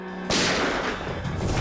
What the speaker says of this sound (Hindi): बाजी ये क्या गोली चलने की आवाज है?